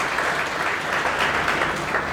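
Steady, dense applause from an audience fills the hall at a NEET coaching class felicitation ceremony, sustained and fairly loud throughout with no pauses.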